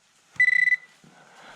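A metal detector passing over a found metal piece gives one short, rapidly pulsing electronic beep lasting under half a second, followed by faint background rustle.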